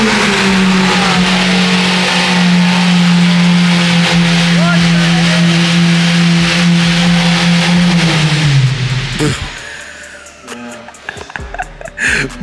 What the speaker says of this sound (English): Bro, craziest sounding car ever